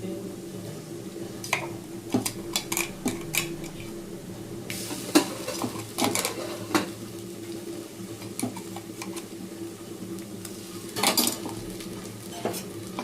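Ginger garlic paste is stirred with browned fried onions in a pan; a metal spoon repeatedly scrapes and clinks against the pan over a soft, steady sizzle, with no talking.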